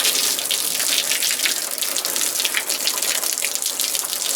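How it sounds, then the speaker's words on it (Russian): Hot water from a bucket pours and splashes onto a towel laid over a wooden board, a continuous close gush with no talk over it. "Мы берем полотенце, кладем его на нашу доску, берем ведро с горячей водой и начинаем это все"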